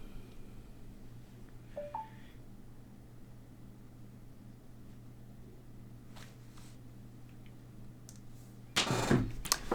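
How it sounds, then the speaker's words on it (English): A phone handset gives a couple of short, faint button beeps early on over a steady low hum, and a louder burst of rustling handling noise follows near the end. "I'm going to go ahead and mute my phone"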